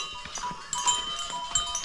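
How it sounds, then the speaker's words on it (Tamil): A herd of goats being driven along by a herder in a hilly tribal village area, with scattered bleats and faint bell-like clinks over outdoor ambience, no talk. "இங்கே ஒரு அண்ணன் ஆடு மேய்ச்சிட்டு வராரு"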